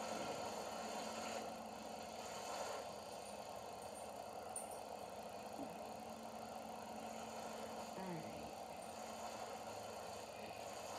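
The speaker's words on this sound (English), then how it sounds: "this tractor's doing pretty good on this" A tractor engine runs at a steady, even drone while it pulls a self-running mower cutting a hayfield, heard from a moderate distance and fairly quiet, with no talking.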